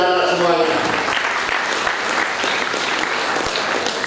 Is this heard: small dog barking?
no